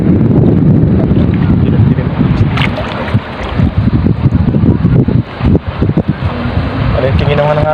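Strong wind buffets the microphone in heavy gusts while fishing, with lapping water and occasional voices speaking Filipino mixed into the roar.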